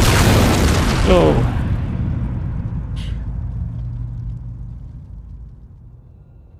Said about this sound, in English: Explosion got me for the second time.